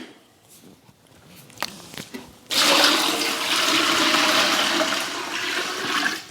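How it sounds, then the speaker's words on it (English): A gallon of water poured into a pot for cooking chicken and broth, coming in as a sudden loud, continuous gush after a few soft handling clicks and thumps, then splashing on steadily to the end. "The first thing that we're going to do is add 1 gallon of water."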